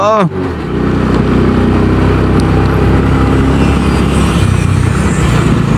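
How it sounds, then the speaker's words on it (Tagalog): A motorcycle engine straining on a steep uphill road between Tagaytay and Talisay, loud and close with a steady laboring drone after an initial rev, wind buffeting the microphone throughout. "Hirap ang motor ko."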